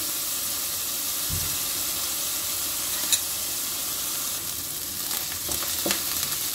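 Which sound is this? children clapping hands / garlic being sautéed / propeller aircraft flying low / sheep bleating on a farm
garlic being sautéed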